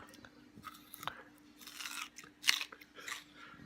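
Close-up chewing of a roasted edible tree dahlia tuber, quiet crunchy bites and mashing in irregular bursts, with one sharper crunch near the middle.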